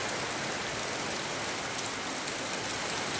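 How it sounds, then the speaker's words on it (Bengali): Heavy rain pouring steadily in a village, a dense, continuous hiss of falling water with no pauses or voices, loud and uniform throughout. "প্রচুর বৃষ্টি হচ্ছে, প্রচুর, অনেক অনেক বৃষ্টি হচ্ছে, অনেক।"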